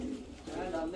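White Madrasi pigeons coo softly in a low, rolling murmur, faint and close, with steady background noise.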